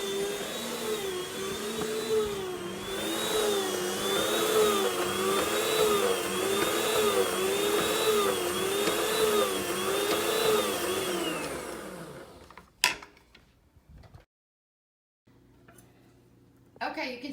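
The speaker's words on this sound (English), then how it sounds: "he's going to slice them on the slicer here carefully" An electric slicer cuts sweet potatoes for dog treats, its motor droning steadily with a rhythmic wavering pitch as each slice passes, then cutting off, followed by a few clatters and near silence; voices talk over the machine.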